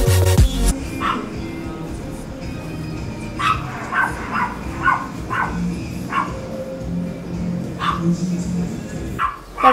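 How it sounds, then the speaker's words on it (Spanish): Several pet dogs indoors bark and yip in scattered short bursts at moderate distance, over a steady background hum, with someone speaking in between. "Por favor, disculpen a mis perros."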